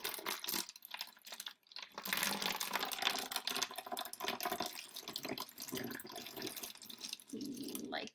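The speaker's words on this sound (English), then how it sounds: "you're going to take your half a cup of hydrogen peroxide and you're going to carefully pour it" Half a cup of hydrogen peroxide poured carefully into a water bottle for an elephant toothpaste demonstration, a steady splashing trickle of liquid heard close up for several seconds with brief pauses.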